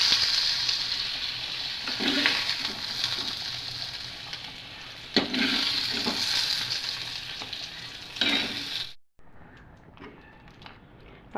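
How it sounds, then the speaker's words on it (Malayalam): Brinjal is added to a curry with jackfruit seeds, producing a close, steady sizzle with stirring clatter for several seconds before cutting off to near silence. "അപ്പം നമുക്ക് ഈ വഴുതനയും കൂടി ഈ കറിയിലേക്കൊന്ന് ചേർത്ത് കൊടുക്കാം."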